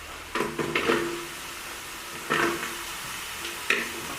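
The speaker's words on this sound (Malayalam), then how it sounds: "ഇനി നമുക്ക് അരിഞ്ഞു വെച്ചിരിക്കുന്ന ഒരു 4-5 സവാള അതിലേക്ക് ചേർത്ത് കൊടുക്കാം." Four or five chopped onions go into a hot pan for a tapioca beef biriyani, giving a few bursts of sizzling and stirring clatter over a steady background hiss.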